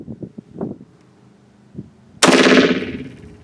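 Bulgarian Circle 10 ammunition fires at a shooting range, several soft clicks and handling noises before one sharp, loud gunshot that rings out and decays over about a second.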